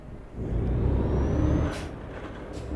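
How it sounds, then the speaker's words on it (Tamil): A bus in the Euro Truck Simulator 2 driving game, a TNSTC mod, starts up with a steady low engine rumble. Near the end come brief hisses like an air brake releasing. "ஸ்டார்ட் பண்ணிவிட்டு பேசாமல் வண்டி ஓட்ட போகிறோம்"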